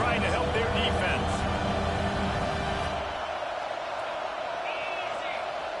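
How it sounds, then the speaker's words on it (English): A packed college football stadium crowd roars on third down, a dense, loud wall of cheering that drops off partway through, with a commentator talking over it. "Listen to this crowd just shaking the girders of this place trying to help their defense."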